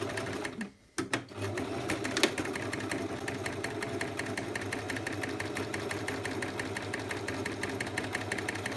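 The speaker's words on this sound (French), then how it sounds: "on place notre aiguille au bon endroit, donc au niveau du pli ici." Sewing machine stitching along a folded edge of a fabric pouch, a steady close mechanical whir with rapid needle ticking after a brief start-up stutter, no talk.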